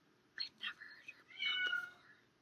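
A pet cat meows from behind a closed door in another room, a few short muffled calls in quick succession, faint and at a distance, with a soft whispery quality.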